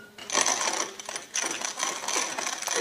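A hand-cranked grinder grinds corn for chicken feed, a close, steady rasping whir that pulses as the handle turns.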